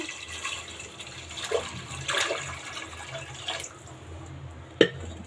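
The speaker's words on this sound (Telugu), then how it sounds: "2 గ్లాసుల బియ్యానికి 3 గ్లాసులన్నర వాటర్ వేస్తున్నాను" Water splashes and trickles steadily into a pot of rice, with a few louder sloshing bursts and a sharp clank near the end.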